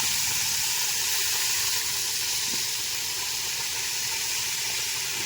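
Potatoes hitting hot oil tempered with green and dried chillies, bay leaf and cumin give a steady, even sizzle and hiss that runs throughout at close range with no talking.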